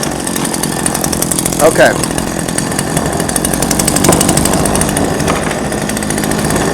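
A gasoline chainsaw, an older saw being readied for use, pulls over and then runs with a steady buzzing engine note; a brief spoken word occurs near the start.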